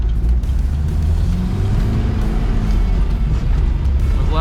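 A Mitsubishi Triton pulling away on an Australian outback trip, a loud close engine drone rising through gears with strong low rumble throughout.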